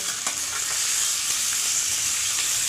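Mutton sizzles steadily in hot oil, a continuous crackling hiss close by with occasional stirring scrapes.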